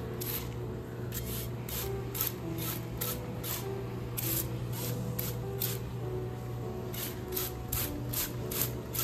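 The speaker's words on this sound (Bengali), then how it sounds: "আমি এইভাবে মাঝে মধ্যে করে মিস্ট দিই" Short hissing bursts of mist sprayed over a potted orchid, repeated about a dozen times in quick succession, soft and close against a faint steady background hum.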